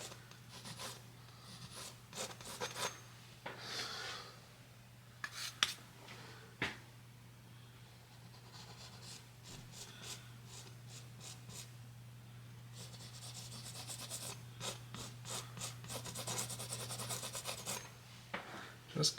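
A paintbrush scrubbing oil paint onto canvas in Bob Ross style, a soft, steady rubbing and rasping that comes close in repeated strokes over a constant low hum.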